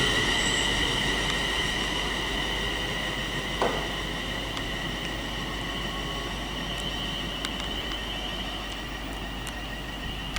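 A West Midlands Railway train pulls out of Birmingham International station, a steady low rumble with high whining tones and occasional wheel squeals and clicks as it moves off along the platform.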